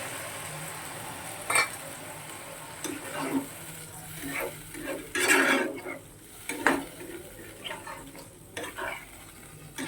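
Katla fish cooking in a pan as water is poured in, a hissing burst of sizzle rising midway among clinks and scrapes of a utensil against the pan, close by with no voices.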